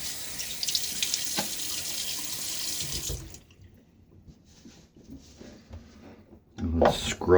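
A bathroom sink tap runs steadily as water is splashed onto the face before a shave, then cuts off, followed by quieter splashing and dripping. Toward the end it swells again into a brief louder burst.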